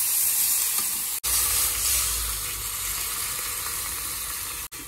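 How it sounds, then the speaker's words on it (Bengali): Water poured into a pan of frying potato and flat beans, a loud, continuous hissing sizzle that swells briefly and then settles, close by, with two abrupt cuts, no talking. "আর এবার এর মধ্যে জল দিয়ে দেবো"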